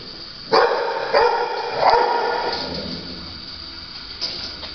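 A medium-sized dog of about 45 pounds gives several separate barks spaced roughly a second apart, followed by a fainter yip, fairly close and loud, with no one speaking.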